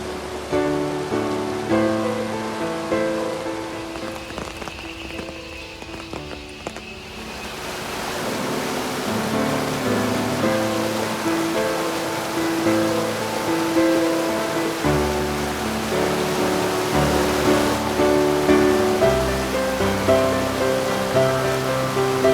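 Waterfall in Coorg, rediscovered and privately converted, heard as a steady, full-bodied roar of rushing water that swells louder after the first few seconds, with no voices.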